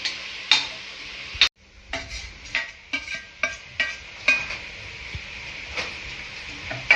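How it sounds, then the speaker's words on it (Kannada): Vegetables for a chapathi veg roll frying in oil in a pan, with a spoon stirring and scraping in a steady series of close clinks and scrapes over a faint sizzle. "ಸ್ವಲ್ಪ ಹೊತ್ತು ಫ್ರೈ ಆಗಬೇಕು"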